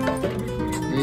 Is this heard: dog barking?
yes